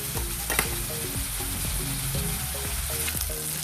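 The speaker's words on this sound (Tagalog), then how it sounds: "Kaya lang natin guys ito magisa sa mantika." Ingredients for a ginisang upo dish sauté in cooking oil, a steady close sizzle and frying hiss with faint stirring knocks from the pan, alone without talk.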